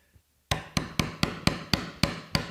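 Eight sharp metallic hammer strikes on a Japanese chisel, evenly spaced and close, each ringing briefly before the next blow.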